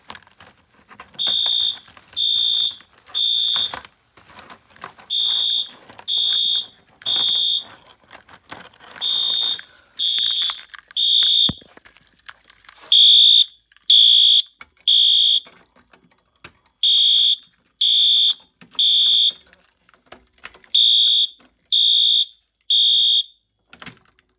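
A fire alarm system fitted with a new Harrington Signal strobe sounds in loud, piercing groups of three high beeps in a repeating temporal pattern, close up, with handling clatter and rustling between the bursts.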